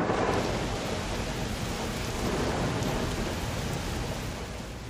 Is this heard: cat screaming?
no